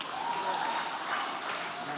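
Soft, somewhat distant audience clapping during a talk, a continuous even wash of claps lasting about two seconds with no clear peaks.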